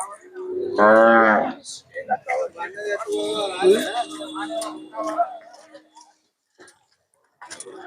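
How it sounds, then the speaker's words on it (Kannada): A bull lows loudly and close by at the Kerur bull market, one long moo near the start, followed by people talking nearby and scattered market noise. "ನೋಡಿ ಇವೆಲ್ಲ ಹೈಫೈ ಎತ್ತುಗಳು."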